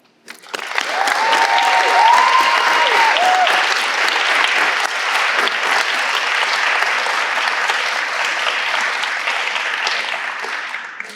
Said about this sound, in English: please join me in a round of applause for Mrs. Donna Nakin for putting together the senior slideshow